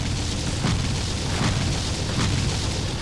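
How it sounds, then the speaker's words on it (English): Loud, dense booms roll on continuously from a dragon boss fight in the action RPG Torchlight, with explosion bursts swelling at regular intervals over a constant rumbling game soundscape. "And I'm hoping these explosions don't sound too loud."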